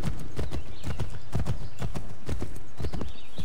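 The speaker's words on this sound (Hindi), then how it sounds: "अपन घोड़ा दौड़ाएंगे।" A horse gallops in Assassin's Creed 3 Remastered, its hooves striking in a loud, rapid, rhythmic clip-clop that continues close and steady throughout.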